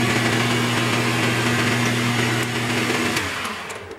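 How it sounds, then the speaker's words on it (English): A spot drill runs on a machining job for a machinist's jack, a loud, steady high whine with a constant motor hum that tapers off and drops in pitch near the end. "here's a spot drill"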